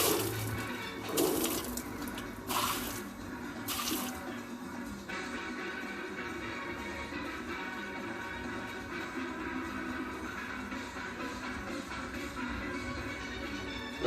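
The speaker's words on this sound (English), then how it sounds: "you have to get some water and try to clean up the area" Steady running water pours and splashes for a long stretch, washing away spilled honey syrup, with a few louder bursts of sloshing early on.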